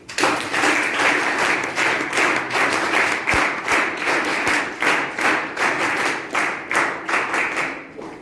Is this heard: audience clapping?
yes